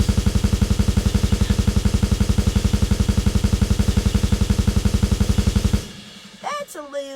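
A GarageBand drum beat for Norwegian black/thrash metal, with ride bell and crash cymbal, hammers out rapid, evenly spaced hits for several seconds, then cuts off into a few brief scattered sounds.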